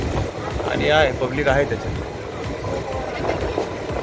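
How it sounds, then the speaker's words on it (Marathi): A new air-conditioned Central Line local train runs alongside a moving express near Thane, heard from inside as a steady rumbling roar beneath someone talking over it. "आपल्या बाजूने चालली आहे ती लोकल AC ट्रेन"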